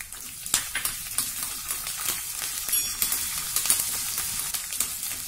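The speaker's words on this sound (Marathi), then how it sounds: "अगदी मंद गॅसवर हे खमंग परतून घेऊया" Cashew pieces being fried on a low gas flame, a soft steady sizzle with frequent light scraping and clicking stirs against the pan, close and fairly quiet.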